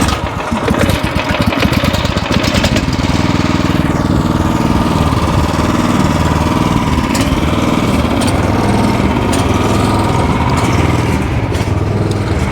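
An Echo SC-3013 wood chipper with a Briggs & Stratton engine runs loud and steady close by, with rough sputtering at first before it settles into a constant roar.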